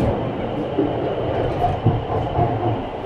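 A Kolkata underwater metro train runs through its river tunnel with a loud, steady rumble and rattle of wheels on track, heard from inside the carriage, with some faint low talk.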